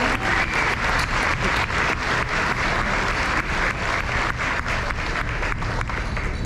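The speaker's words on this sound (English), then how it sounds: "Can we give them another round of applause?" Sustained applause from a large crowd at a high school senior awards ceremony, dense and steady clapping throughout, fairly loud with no voices standing out.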